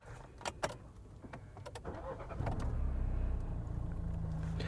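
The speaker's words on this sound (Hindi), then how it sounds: "तो आप एक बार आवाज़ भी सुन सकते हो कि कैसी कुछ आवाज़ ये इंजन करता है।" A Mahindra Scorpio Classic S11 engine starting, a brief crank and catch from inside the cabin followed by a steady low diesel idle hum, preceded by faint clicks and rattles.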